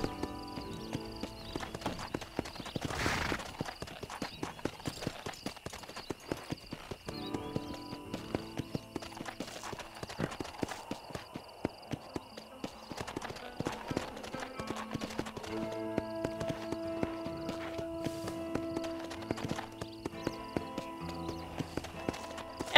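Steady clip-clopping of horse hooves at a trot in Knights of the Old Republic on the original Xbox, moderately loud, with music and ambient game sounds underneath and an occasional brief snort.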